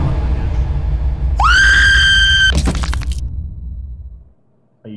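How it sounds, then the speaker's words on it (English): A girl lets out a loud, sustained high scream in the horror video game Dungeon Nightmares II, rising sharply and holding for about a second over a low rumbling drone, followed by a sharp crack and fading ambience. "All I heard was the girl scream."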